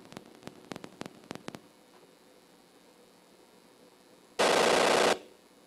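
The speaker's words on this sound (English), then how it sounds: "When you set Dynamite, it's got a nice little explosion sound." A dynamite explosion sound effect from an Apple II video game: a short, harsh burst of loud hissing noise comes after a quick run of sharp digital clicks and a quiet hum.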